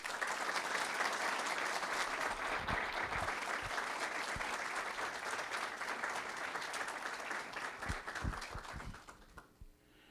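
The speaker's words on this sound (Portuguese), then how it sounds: "recebemos com a salva de palmas o senhor presidente da Associação Comercial de São Paulo" A sustained round of applause greets the president of the São Paulo Commercial Association at a formal business gathering. Dense clapping from a large audience holds steady, then thins out and fades near the end.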